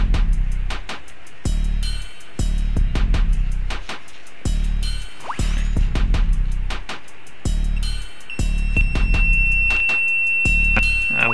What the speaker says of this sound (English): See, I get continuity, the beep and the light.